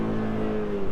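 A Ford Mustang with the 2.3 EcoBoost engine and a 10-speed transmission, driven in sport mode, gives a steady, droning engine note heard from inside the car throughout the brief moment.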